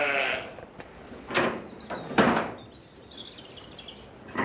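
Sheep and lambs on a farm bleating in several separate calls, some near and loud, others fainter, with short gaps between them and light background noise.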